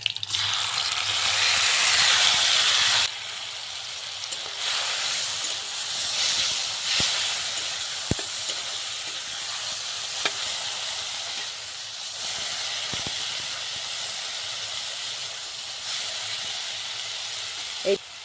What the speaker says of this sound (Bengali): এইবারে দিয়ে দেবো এই পেঁয়াজগুলো